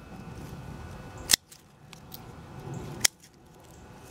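Shears snipping suckers from beefsteak tomato plants, three sharp close cuts spaced about 1.5 seconds apart, with leafy rustling between them.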